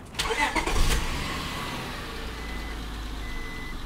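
A 2001 Honda Accord EX V6 engine cranks and catches with a burst of sharp noise, then settles into a steady, smooth low idle without misfiring, faint beeping in the background.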